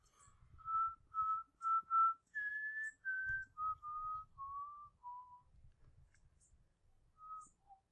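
A person whistles a simple tune alone, a string of clear sustained notes stepping down and up in pitch with short gaps between phrases.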